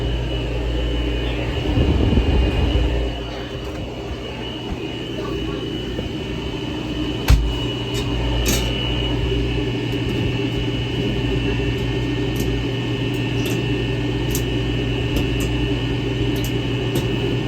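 A Norlake topping freezer running with a steady compressor and fan hum, a low rumble early on and a sharp click around midway as the thermostat cycles, followed by faint ticking.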